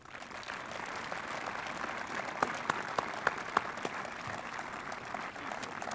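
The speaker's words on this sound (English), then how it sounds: "Please join me in a round of applause." A crowd applauds steadily throughout at an outdoor Vietnam memorial plaza dedication, a dense continuous clatter of hands with a few sharper individual claps standing out near the middle; no one speaks over it.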